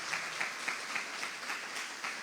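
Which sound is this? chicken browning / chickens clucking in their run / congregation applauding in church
congregation applauding in church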